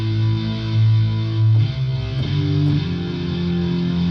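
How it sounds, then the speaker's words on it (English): Distorted power-chord guitar voice from a Korg Pa arranger keyboard in sound mode, thick, loud sustained chords that change a few times over four seconds, with no talking. "In sound mode, that guitar sounds like this."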